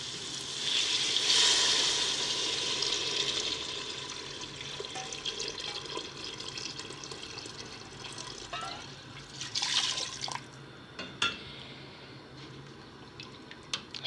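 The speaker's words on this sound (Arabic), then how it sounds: "هيك يعني بنحط المي." Water poured into a pot of simmering sauce for chakhchoukha, a loud splashing gush at first that tapers into softer trickles and sizzling, with brief spoken remarks over it.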